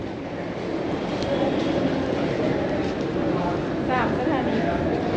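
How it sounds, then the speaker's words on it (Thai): Subway metro train in New Delhi, a steady loud rumble of the carriage in motion with faint squeals, people talking quietly underneath throughout. "เดี๋ยวมาเบิ่งรถไฟใต้ดิน"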